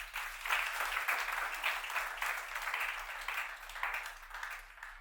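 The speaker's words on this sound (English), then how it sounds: "can we clap for him again?" Sustained applause from a conference audience at a networking session, steady dense clapping at moderate volume throughout with no voices over it.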